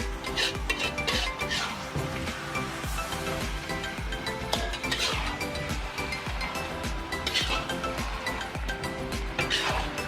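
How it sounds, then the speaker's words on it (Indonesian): Chicken stirred with spice paste in a pan for Indonesian galangal fried chicken, repeated scraping clinks of a utensil against metal over a low sizzle, close and steady, no speech. "setelah ayam dimasukkan, kita aduk rata dengan bumbu"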